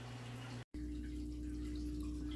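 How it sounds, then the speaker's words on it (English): Water running and splashing during a large water change on a saltwater fish tank, a steady faint trickle with a brief cut, over a constant low hum. "do a huge water change"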